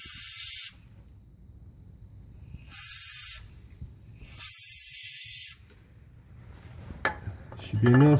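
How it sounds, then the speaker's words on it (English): Short, close blasts of white lithium grease from an aerosol can hiss onto a bushing, three bursts with quiet gaps, followed by a faint clatter of metal parts at the end. "And spray the bushing itself."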